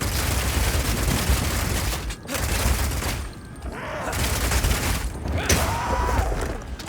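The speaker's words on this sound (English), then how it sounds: "Being able to run while shooting with Rapid Shot is also great for when you want to perform a fighting retreat." Rapid, sustained gunfire from the Rapid Shot skill in the video game Path of Exile 2, a dense barrage of shots running almost the whole time with brief gaps, loud and close, over busy game effects.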